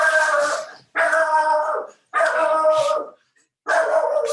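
A dog barks in four long, strained, howling bursts separated by short silences, close and loud with no other sound.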